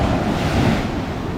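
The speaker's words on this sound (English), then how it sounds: "Oh, look at the waves." Ocean surf washing onto a sunny beach, a steady broadband wash of breaking waves with some wind rumble, continuous and fairly loud with no voices.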